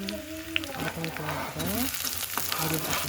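Onion and spices frying with garlic in hot oil in a pan, a soft continuous sizzle with scraping stirs, under a voice speaking through much of it.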